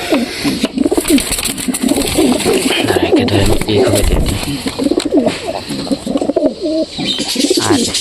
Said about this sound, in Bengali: এটা হচ্ছে নয় পরের পায়রা